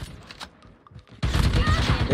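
Gunfire in Call of Duty Mobile: a few faint muffled shots, then a loud, dense burst of rapid shots that keeps going to the end.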